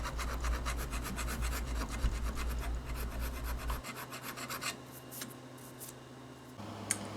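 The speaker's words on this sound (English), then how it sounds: "I just like the razor file's blunt end just in case I go a little too far and I hit the paint." A razor file rasps back and forth on the wood of a Gretsch Chet Atkins guitar neck during a neck reset, with quick close scraping strokes that thin out toward the end.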